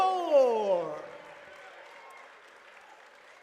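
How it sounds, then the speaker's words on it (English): Applause from a crowd honoring players at a men's college basketball conference quarterfinal rises after a brief voice at the start, then fades to a softer, thinning patter over the remaining seconds. "we just wanted to give them one more round of applause"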